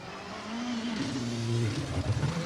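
Skoda rally car on a Queensland rally stage, its engine note rising steadily as it drives past at moderate distance, revving harder toward the end.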